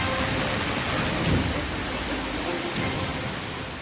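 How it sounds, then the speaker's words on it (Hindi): Heavy monsoon downpour in Bageshwar, Uttarakhand pours in a dense, loud, unbroken hiss of rain striking surfaces, with a faint voice low underneath. "बागेश्वर में भी मूसलाधार बरसात लोगों के लिए परेशानी का सबब बनी हुई है"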